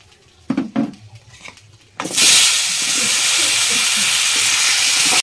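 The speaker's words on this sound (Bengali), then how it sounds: "আমি মাছের তেলের মধ্যে আমি কুমড়োটা ভেজে নেবো আজকে" Pumpkin dropped into hot fish oil left over from frying fish, a loud sudden burst of hissing sizzle that holds steady after a few quiet clinks and knocks of utensils.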